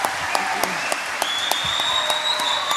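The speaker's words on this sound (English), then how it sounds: "A round of applause for Chris Poole." Sustained applause from an audience at a Young Farmer of the Year awards night, with dense clapping filling the room and a few louder claps standing out, plus faint voices underneath.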